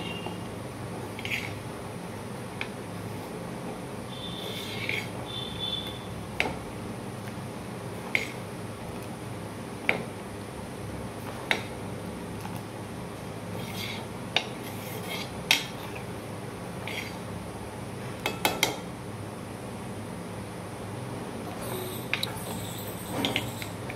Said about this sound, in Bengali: চিনি দিয়ে আবারও খানিকক্ষণ ভালো করে নাড়াচাড়া করে নেব।